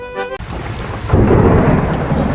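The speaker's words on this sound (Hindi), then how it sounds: "एक तूफानी रात" A thunderstorm at night: a brief tone gives way to steady heavy rain, then a loud rumbling thunderclap swells in and rolls on under the downpour.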